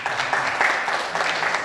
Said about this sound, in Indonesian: Tepuk tangan untuk kerawitan.